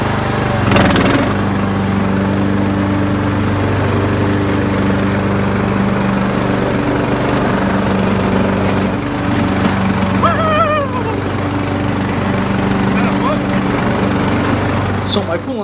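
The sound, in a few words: Poulan Pro Briggs and Stratton riding mower engine running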